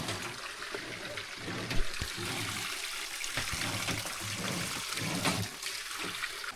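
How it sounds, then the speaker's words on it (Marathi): Water gushing out of a village water pipe after a rod has pushed debris and leaf litter loose, a steady rushing flow that holds up close and loud throughout, with brief knocks and bumps over the stream and no talking. "हा ते बघा पाणी येते."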